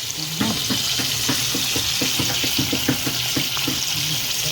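Chicken fries in oil over an outdoor coal fire with a steady, close crackling sizzle, broken by regular soft knocks or pops throughout.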